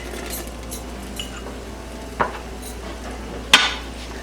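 Boiled peas and vegetables stirred in a wok for egg fried rice: a soft, low sizzle broken by two sharp clinks of a utensil against the pan, close and without voices.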